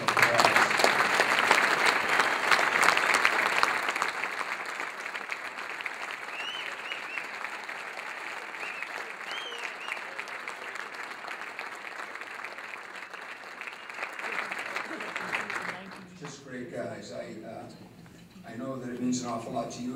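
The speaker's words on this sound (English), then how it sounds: "I'd love them to stand up and take a round of applause." A sustained round of applause fills the room at a men's hockey 50th anniversary dinner, loud at first and gradually thinning, with talk and murmuring emerging near the end.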